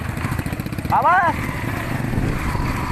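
A motorcycle engine putters at low idle during a riding lesson, with a brief higher revving whine rising over it partway through.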